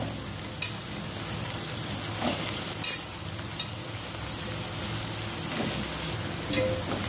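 Raw banana pieces and softened onion sautéed in a pan over low flame, a soft continuous sizzle with occasional scraping stirs and small clinks, close and moderate, without talk.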